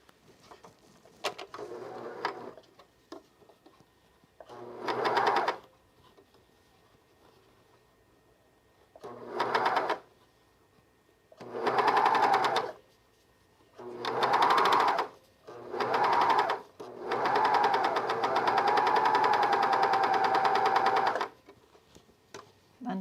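Sewing machine stitching the seam of a men's raglan shirt, several separate bursts of close, steady whirring of different lengths with pauses between them, ending in one long continuous run.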